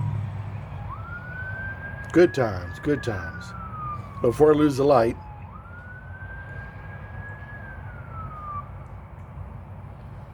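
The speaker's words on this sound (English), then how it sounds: "And the police are coming by." A siren wails in the distance, sweeping up and down, while someone talks nearby over it.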